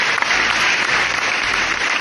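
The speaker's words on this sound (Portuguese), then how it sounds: "Foi palmas aí" Applause from a studio group on a Brazilian podcast about online health degrees, steady dense clapping lasting the whole moment, close and fairly loud.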